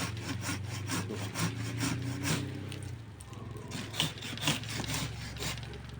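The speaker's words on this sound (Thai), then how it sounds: "สามารถเลื่อย" Close, brisk strokes of a folding hand saw grind through hardwood in a regular rhythm, with a low hum underneath at first.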